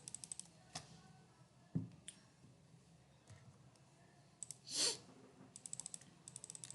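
Typing on a computer keyboard, a scatter of quiet, sparse key clicks and taps with gaps between them, faint and close in a quiet room, plus one brief louder rustle midway.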